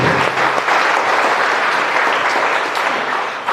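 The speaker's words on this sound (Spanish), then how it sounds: "Le damos un fuerte aplauso a Alma Giviana." A church congregation breaks into loud, sustained applause during Sunday Mass, a dense steady clatter of many hands clapping that fills the whole moment with no voices over it.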